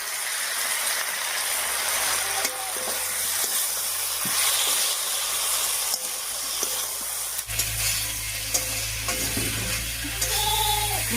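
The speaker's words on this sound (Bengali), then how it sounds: "এবারে বেটে রাখা মশলাটা দিয়ে কিছুক্ষণ কষিয়ে নেব" Ground spice paste stir-fried with nearly boiled vegetables in a pan, a constant loud sizzle with scraping and rattling stirring, the frying growing heavier toward the end, no voices.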